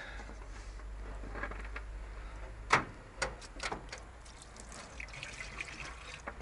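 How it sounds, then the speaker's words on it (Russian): Hot water poured into the radiator of an Izh Kombi or ZAZ 968 car during a winter start, a faint trickle and splash with one sharper splash midway, over a low steady hum. "Сейчас заливаю горячую воду в радиатор и пробуем запустить."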